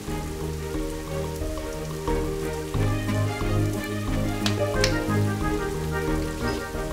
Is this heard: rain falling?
yes